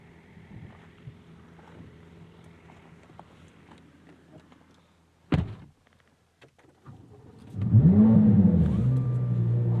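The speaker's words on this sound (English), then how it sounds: "I love that startup growl, the LT6 engine, very much right in your face." Chevrolet Corvette Z06 C8 with the LT6 engine starting up: a sharp crank and bark, then a loud, close, rumbling idle growl that rises and settles near the end after quieter wind-buffeted moments.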